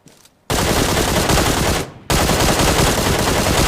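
Sustained automatic gunfire in the mobile battle royale game PUBG roars in two long, dense bursts separated by a short gap, loud and continuous.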